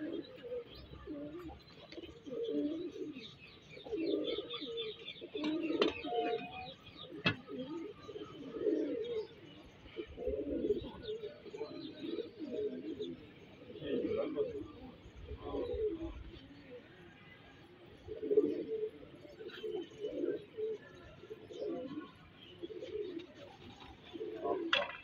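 Pigeons cooing repeatedly in a rhythmic series of soft, low throaty calls, with occasional chirps and light rustling around a pigeon loft, fairly close and steady throughout.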